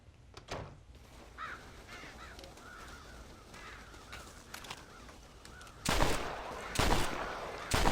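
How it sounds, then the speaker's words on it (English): Crows cawing in the western video game Red Dead Redemption, a run of harsh, repeated caws from several birds close by, followed by loud bursts of gunfire near the end. "Fucking crows."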